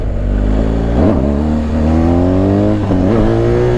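BMW GS adventure motorcycle engine revving hard, a loud close drone that swells twice with sharp throttle blips as it accelerates to lift the front wheel, no talk.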